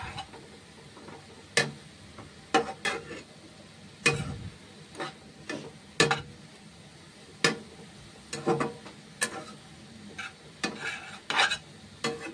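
Shredded cabbage fries in a pan for momo filling, with soft sizzling under repeated sharp scrapes and clacks of a spatula stirring at an uneven rhythm, close and fairly loud, with no talking.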